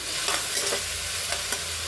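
Beans and potatoes frying in oil while being stirred, close and loud, a continuous sizzle broken by a few brief scrapes of the spoon.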